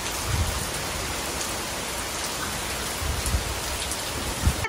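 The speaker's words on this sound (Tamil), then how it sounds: "வெளில பார்த்தீங்கன்னா வேற லெவலில் மழை பெஞ்சிட்ருக்கு." A heavy downpour falls outside a house balcony in a thunderstorm, a constant loud rush of rain with occasional heavier thuds of water.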